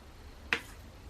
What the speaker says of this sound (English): that clicking noise is this pen pulling away